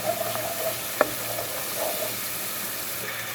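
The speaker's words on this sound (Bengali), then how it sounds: "এই যে দেখেন আমার মশলাটা কষানো হয়ে গেল।" A spice paste for a small-fish sour curry fries and is stirred in a pan, giving a soft continuous sizzle with a single sharp utensil clink, close by and free of talk.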